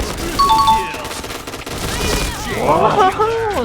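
The MX4 G submachine gun fires at close range in the online shooter Point Blank, a loud continuous rattle of automatic shots with metallic pings, under someone talking.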